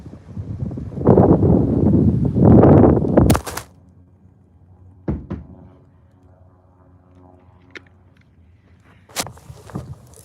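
Two heavy bursts of wind buffet the microphone outdoors for a few seconds, loud and rumbling, then drop away to quiet with a few scattered knocks and thumps.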